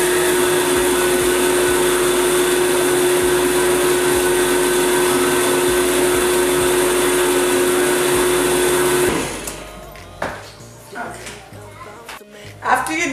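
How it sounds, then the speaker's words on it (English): A blender runs steadily at high speed blending rice in water for Mexican horchata, a loud constant whir for about nine seconds before it cuts off and faint handling noises follow. "you're going to blend the rice in water. You have to blend it for 1 minute and 30 seconds"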